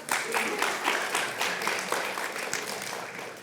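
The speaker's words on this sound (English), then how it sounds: "Can we have a round of applause for that?" Moderate applause from a lecture audience during a university algorithms class, steady broadband clapping for a few seconds with a slight swell and fade.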